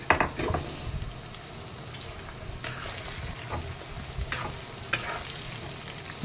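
Patoli paste is added to a drumstick curry in a pan and stirred in. A quiet sizzle runs under repeated scraping and clinks of a spoon against the pan, with a few sharper knocks scattered throughout.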